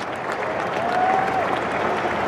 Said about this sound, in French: Allez, on les applaudit, on leur donne du courage.